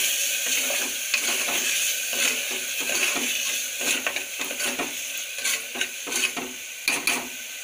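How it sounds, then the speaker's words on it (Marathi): Coconut and onion paste fries in hot oil in a pan, giving a close, steady sizzle broken by repeated scraping stir strokes, with no talking. "ते पण चांगलं तेलामध्ये फ्राय करून घ्यायचं।"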